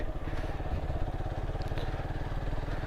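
A motorcycle engine labours in second gear up a steep hill on the way to the Darjeeling hill near Sreemangal, a steady close putter of firing pulses with slight rises and dips throughout.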